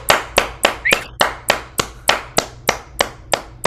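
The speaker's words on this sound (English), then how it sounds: "let's give this man an applause." A man is applauded after a yoga talk. The clapping is a steady, even run of about a dozen sharp claps, closer to one or two people clapping in rhythm than to a large crowd.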